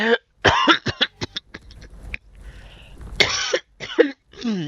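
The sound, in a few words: asthmatic cough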